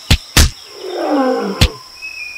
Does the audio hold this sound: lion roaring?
yes